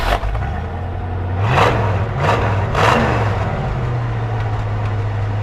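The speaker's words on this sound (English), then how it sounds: "Dual exhaust sounds good" A 1966 Mustang GT Fastback V8 with new GT dual exhaust idles steadily, then three sharp revs build and fall back in quick succession, close and loud, with no voices.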